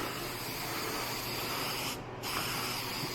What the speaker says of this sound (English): I like the Tresemme number 5 freeze hold. Couple test sprays.